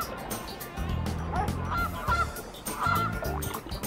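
Geese honk repeatedly in the Frogger PS1 video game, a cluster of nasal calls in two bursts over game music, fairly loud and close.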